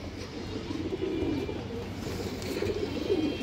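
A red chulli female pigeon of a red-eyed breed coos in low, rolling bursts, moderately close, with a steady murmur of other birds and faint background noise.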